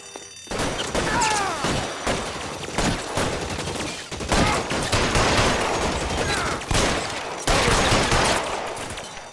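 Heavy gunfire in the L.A. Noire video game, dense overlapping bursts of rifle and machine-gun shots with crashing impacts, loud and continuous throughout the firefight.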